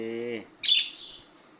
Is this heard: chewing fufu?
no